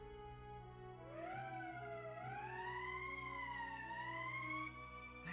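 An emergency siren in Valkyria Chronicles, a single rising and wavering wail that swells and holds over a low steady background hum, fairly quiet, with no talking.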